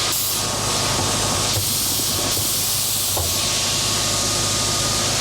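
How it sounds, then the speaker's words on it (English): A steady, close hiss of compressed air feeding into a tire through the valve on a 1974 Honda CB350F motorcycle wheel, loud and continuous with a couple of brief breaks in the flow. "I'm putting a little bit of air in here now so it stretches, expands a little bit, and then comes back apart"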